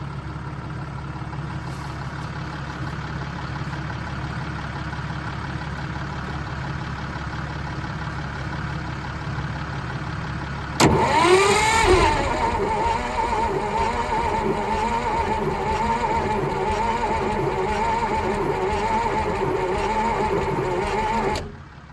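An old white Constructor cement truck, left sitting for over 25 years, churns steadily for about eleven seconds, then its sound abruptly jumps louder and rougher and keeps running close by until the end, with no one talking.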